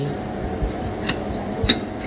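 A couple of light, sharp clacks of plastic bowls and plates knocking together, spaced apart over a low steady background hum.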